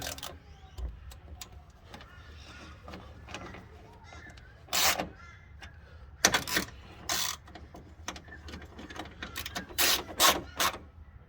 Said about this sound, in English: Tighten up these bolts.